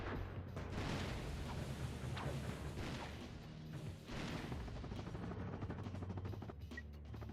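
Enemy gunfire in Ratchet & Clank 2 rattles in dense, rapid bursts with booming impacts, loud and continuous over a rumbling game soundscape.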